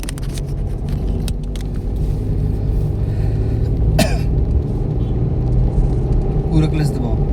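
Car engine rumbles and revs steadily during a driving lesson, a low continuous drone with a cough and brief rattles partway through, while an instructor keeps talking.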